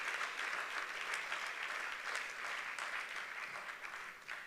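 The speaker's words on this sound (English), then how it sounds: "That's a good place to clap for yourself." A crowd of graduates at a school of government graduation ceremony applauds steadily, a dense, even wash of clapping that sounds somewhat distant and continues without a break.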